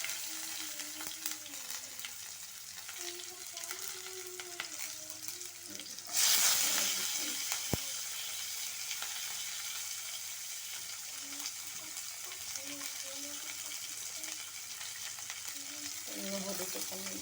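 Onions and green chillies hit hot oil seasoned with cumin and cardamom, bursting into a loud sizzle that settles into a steady frying hiss, with a voice talking over it.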